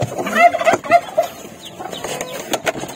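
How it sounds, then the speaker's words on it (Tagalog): Chickens clucking and squawking close by, several birds calling in short overlapping bursts with some rustling between calls. "Yung mga manok na yan."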